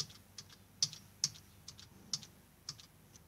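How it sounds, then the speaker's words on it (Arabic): Computer keyboard keys pressed during video editing, a Ctrl+Z undo shortcut: a handful of crisp, sharp key clicks spaced irregularly, close and fairly quiet, with no talking. "او ان انا اجي على الكيبورد وادوس كنترول زد"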